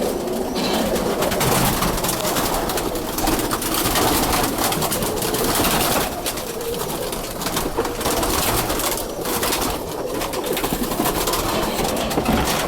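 Roller pigeons coo in a loft, their soft throaty calls overlapping amid a busy, loud wash of flutters and scuffling.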